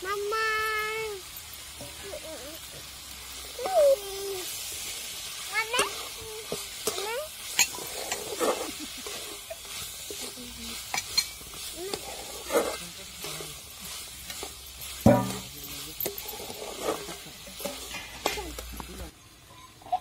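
Peas, onion and tomato stir-fried for paneer bhurji, a steady sizzle with repeated spatula scrapes and stirring clatter against the pan, while someone talks over much of it.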